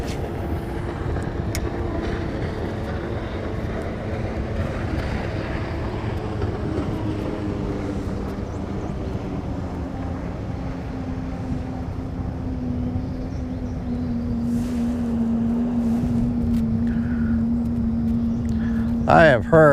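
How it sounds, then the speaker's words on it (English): A jet ski on cold open water drones past as a low engine tone rising and falling across the stretch, moderately near, ending in a brief splash or clatter. "Oh, here comes a jet ski."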